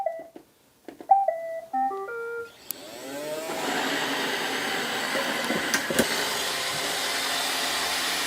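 An iRobot Roomba 692 robot vacuum chimes a series of start-up beeps, then spins up into a steady, close whirring hum as it sweeps popcorn from carpet, with a few faint clicks and bumps along the way.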